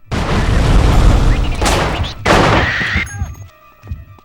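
Sustained assault rifle fire in the video game Manhunt, a loud dense fusillade that pauses briefly, resumes in a second burst, then gives way to quieter metallic rattles and clicks.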